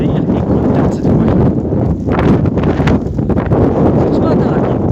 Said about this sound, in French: C'est un petit peu venteux aujourd'hui, un petit peu de neige.